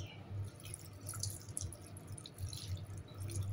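Water poured into fish paksiw in a rice cooker as it cooks, following cooking oil, with a soft trickling and dripping splash that runs through the moment, faint and close, with no talk.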